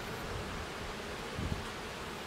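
A soft, steady buzz of many honey bees around hive frames fills the background, faint and continuous with a little rustling.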